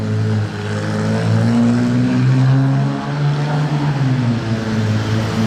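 A McLaren with a Novitec aftermarket exhaust rumbles deep and loud nearby in Monaco, its exhaust note rising and falling slightly with throttle, no voices.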